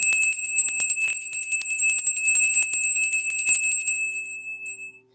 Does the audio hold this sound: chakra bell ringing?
yes